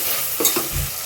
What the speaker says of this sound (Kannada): ಟೊಮೆಟೊ ಸ್ಮ್ಯಾಶ್ ಆಗೋವರೆಗೂ ಫ್ರೈ ಮಾಡ್ಕೊಳ್ಳೋಣ ಚೆನ್ನಾಗಿ